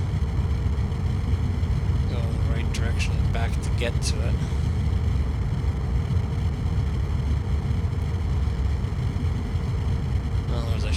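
Spacecraft engines thrust in a space-docking video game, a steady low rumbling roar that runs the whole time beneath continuous talking, with a few brief higher clicks partway through.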